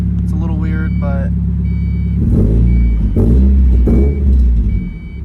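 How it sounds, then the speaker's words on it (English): Mazda Miata engine idling and revving after a clutch installation, a loud steady rumble with rising revs, while a person talks over it at the start. "the car is running"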